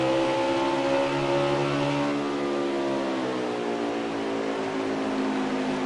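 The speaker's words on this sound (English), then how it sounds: "it just sounds like his car really is struggling. Listen in to that engine and tell me what he's trying to do here with his race car." A race car engine in the NASCAR Heat 4 video game drones with a strained, wavering tone at ISM Raceway, holding a continuous whine whose pitch sags and rises as it struggles.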